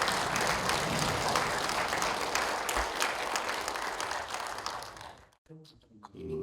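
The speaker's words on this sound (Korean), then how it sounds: "큰 박수로 맞이해 주시기 바랍니다" Audience applause welcomes a professor to the stage for a special lecture at a cultural festival hall, a steady dense clapping that fills the room for about five seconds before cutting off, followed by a brief voice.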